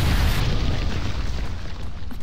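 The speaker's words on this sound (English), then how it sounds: "a great asteroid hit the Earth and created a huge explosion" A massive asteroid-impact explosion rendered as a sound effect: a deep, roaring boom with heavy low rumble, loud and sustained for a couple of seconds before slowly thinning out, with no voices over it.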